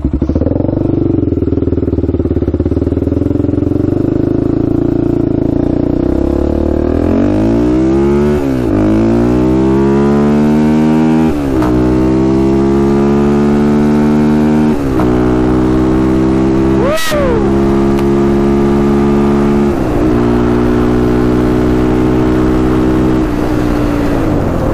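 A Honda 400ex ATV on new tires and rims runs at speed, its engine droning loud and close and climbing through repeated rising gear pulls, then holding a steady high note with a brief sharp spike near the end; no talking.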